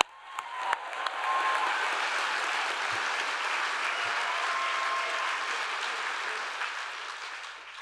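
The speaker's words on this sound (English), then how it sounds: "give them a round of applause, please." A crowd at the 2019 Lo Máximo Awards ceremony breaks into sustained applause, with steady clapping that swells within the first second and holds at an even level until it tapers slightly at the end.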